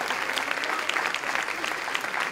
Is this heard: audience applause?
yes